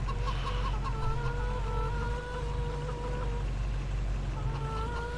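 Matured chickens in Farming Simulator 22 cluck in drawn-out, wavering calls that come in two bursts separated by a short pause, set over a steady low droning background.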